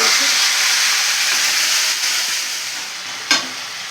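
Ground spice paste with whole fennel seeds and bay leaf sizzles hard in hot oil in a home pan, a steady loud frying hiss that holds throughout, with a brief sharp burst near the end.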